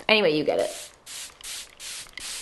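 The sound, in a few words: setting spray being sprayed on face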